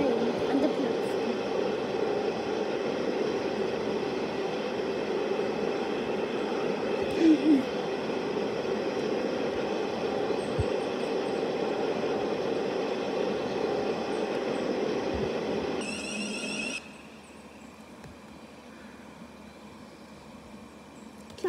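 A steady video game train rumble in Stepford County Railway arriving at Stepford Airport Parkway, with broadband noise filling the interior, continuous and fairly loud, then abruptly dropping quieter near the end.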